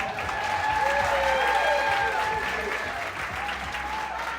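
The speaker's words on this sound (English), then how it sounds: "give her a round of applause" Audience applause fills a live art competition event in Wichita Falls, a steady, dense wash of clapping that holds for several seconds, with a host's voice faintly over it.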